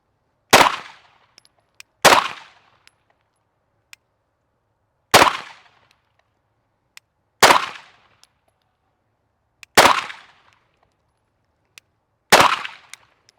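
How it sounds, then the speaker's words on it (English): Six loud, sharp gunshots from a Glock 45 pistol fitted with a Radian Afterburner, fired slowly at a range with uneven gaps of one to three seconds between shots. Each crack decays quickly, and faint clinks can be heard between the shots. "So we'll load up some ammo so you can shoot the Glock45."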